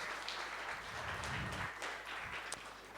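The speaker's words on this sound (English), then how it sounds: "big applause for him" An audience at the Urbe Hub opening event applauds for a media director, a short burst of steady clapping at moderate volume with no voices over it.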